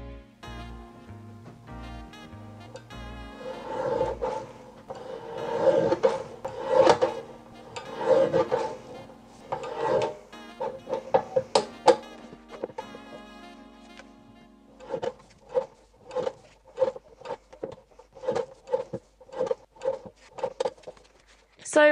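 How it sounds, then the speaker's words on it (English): Printed thank-you cards being trimmed by hand, a series of soft, irregular cutting strokes and paper rubs, quiet and close, with short pauses between bursts. "So I've just been printing off some more of those and I'm gonna trim them now."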